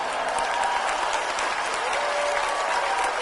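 Steady, loud applause from a seminar audience for Indonesian Defence Minister Prabowo Subianto, sustained dense clapping with no break throughout.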